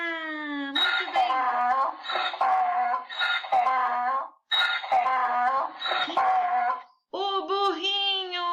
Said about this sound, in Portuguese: O burrinho!